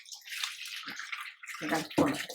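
Bitter gourds being rinsed under running water, a short burst of splashing and sloshing alongside faint, intermittent talk.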